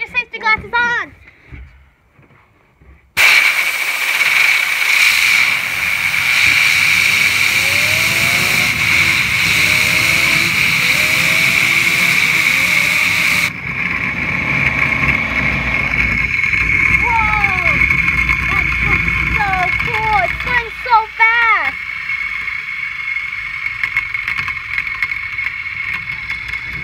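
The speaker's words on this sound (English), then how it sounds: "Now we're just gonna try spinning all three at the same time" Three fidget spinners whir together as they spin, a steady high hum that persists for many seconds while people talk over it.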